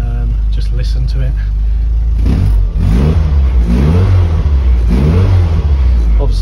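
A 1980 Mini 95L van's engine idles loudly up close, then is revved in several rising surges, its deep rumble steady throughout.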